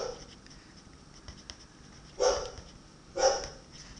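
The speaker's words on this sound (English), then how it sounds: "Oh, and there's my dog" A dog barks twice indoors, two short separated barks at moderate distance over a quiet room background.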